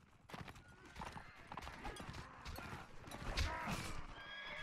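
A horse in the Mount & Blade Warband video game neighs shrilly after a spear strikes its eye, amid clattering hooves and battle din, with a faint voice underneath.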